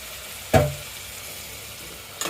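Potatoes dropped into a pan of cooked-down spices for a Bengali chicken curry give one sharp sizzling burst that quickly fades to a low fry, with a small clatter near the end.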